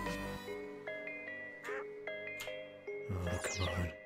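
Quacking from a space duck character in a video game, a few short cartoonish calls repeating over a steady bed of game music and effects, fairly close and clear.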